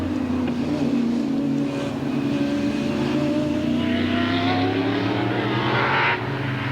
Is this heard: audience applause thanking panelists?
no